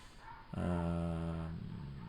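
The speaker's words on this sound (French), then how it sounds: "on entend des chiens au loin, des chiens de chasse." A single drawn-out bay from a hunting dog sounds faintly in the distance in a wood in the morning, a long howling bark over quiet outdoor background.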